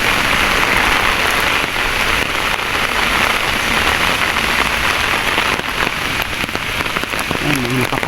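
Steady rain pours onto surfaces outdoors, a dense continuous hiss of drops close by throughout, with faint voice-like tones near the end.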